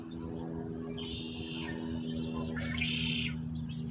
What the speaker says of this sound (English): We got red-winged blackbirds, all different types of songbirds,